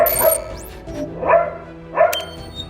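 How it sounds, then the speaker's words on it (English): Dogs barking in the background of a home: three distinct, fairly loud bark bursts about a second apart, each with a brief yelping edge, and no speech over them. "Sorry if you hear background noises. Those are the dogs."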